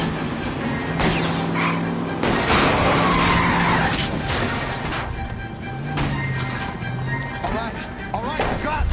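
Car chase in L.A. Noire: tires squeal and skid repeatedly under revving engines with crunching impacts, loud and close, while characters talk over the action.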